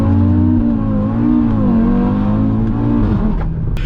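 A 570 hp Audi RS3 launches hard from a standstill, its engine note climbing loud and close through about three seconds, with the rev pitch dropping on a shift change near the end.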